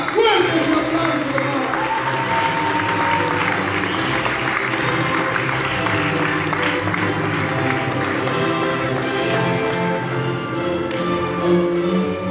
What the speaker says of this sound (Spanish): Y ahora sí, con un aplauso fuerte.